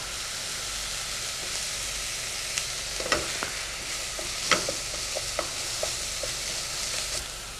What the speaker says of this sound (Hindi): इसके लिए प्याज को हल्का सा भूनना है